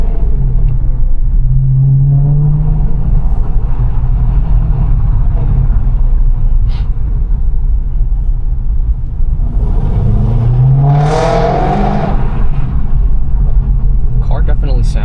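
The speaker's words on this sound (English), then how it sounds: "Car definitely sounds a lot better than before." A BMW E90 M3 drives along, its engine rumbling low and steady with two distinct rising revs, heard from the cabin beneath someone talking throughout.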